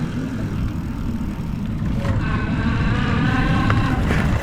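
An electric tricycle converted from a bicycle pulls away, its motor giving off a rising whine over rough, rumbling road and wind noise, loud and close.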